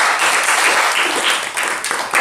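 Loud, dense applause for the final three of Survivor: Hidden Valley, a crowd clapping hard and continuously with a brief dip before surging again.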